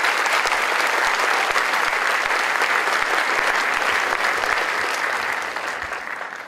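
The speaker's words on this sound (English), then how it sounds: "A round of applause for them, please." Audience at an induction ceremony for newly named officers breaks into sustained, dense applause that holds steady, then begins to thin and fade near the end.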